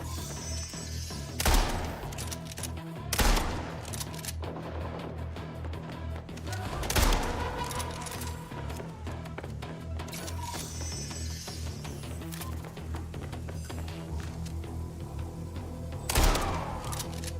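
Shotgun blasts in the futuristic shooter game MindsEye, four loud sharp bangs spaced a few seconds apart, each followed by mechanical reload clicks over a steady background hum, with a little talk.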